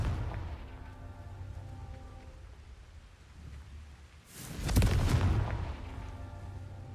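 A Confringo fire spell bursts in Hogwarts Legacy, a loud booming blast about two-thirds through that follows a stretch of quieter game ambience, then fades into a rumbling tail.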